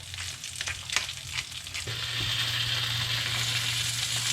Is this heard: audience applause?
no